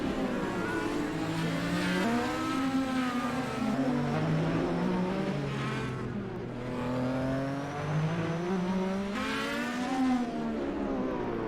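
Indy race cars at the Grand Prix of Long Beach, their engines droning loudly with rising and falling pitch as they shift gears and pass by. The roar runs continuously with no talk.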